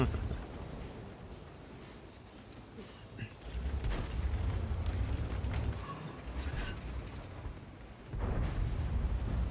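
Tank cannon fire in the online armored-combat game World of Tanks, with booming shots and rumbling engine noise spread through the scene, a couple of louder blasts standing out under occasional talk.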